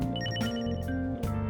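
Phone ringtone from the video game Persona 5 Royal: a bright, repeating electronic melody over a steady musical backing, loud and continuous through the short stretch with no talking.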